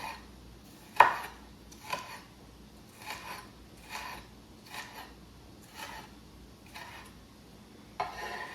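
A knife cuts food by hand in a Haitian home kitchen, about eight separate dull chops spaced roughly a second apart, fairly quiet and close, with no talk.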